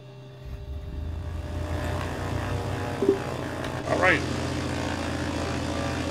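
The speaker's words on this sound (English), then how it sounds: "Rear engine is started." Rear engine of an aircraft in Microsoft Flight Simulator spinning up, a low droning hum that rises and builds steadily, with a brief whine partway through and someone speaking over it.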